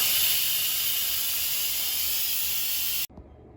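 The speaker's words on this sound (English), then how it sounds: "so let's quick release the steam." An Instant Pot vents steam in a quick pressure release, a loud, steady hiss close by that runs for about three seconds and then cuts off abruptly, leaving faint sputtering.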